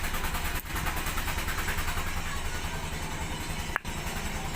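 A TVS motorcycle engine runs steadily, its head valve rattling in a worn valve guide with a constant busy ticking throughout and a couple of brief dips, heard alone without talk.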